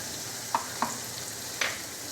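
Kashmiri chilli powder, red chilli powder and cumin powder with a splash of water fry softly in a pan, a low sizzle under three distinct scraping clicks of a stirring spoon.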